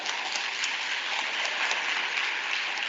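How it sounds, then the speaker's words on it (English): Steady, dense applause from an audience at a young women's symposium, many hands clapping continuously without pause, fairly loud and even throughout. "They must clap hands for you"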